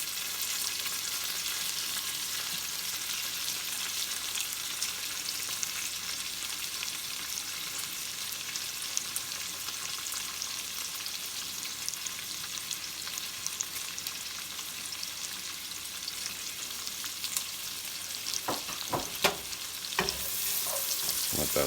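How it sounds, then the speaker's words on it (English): Bacon and onion sauté in a pot with a loud, steady frying sizzle up close. Near the end a few sharp clinks of a spoon stirring cut through, with no talking. "we're going to go ahead and add this onion to the pot. You want to saute that down as well."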